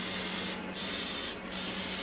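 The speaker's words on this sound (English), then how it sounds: "now I forgot to spray the top of them with oil" Cooking oil sprayed in short squirts over zucchini and squash slices in a Ninja Foodi, a steady close hiss with two brief dips, no talking.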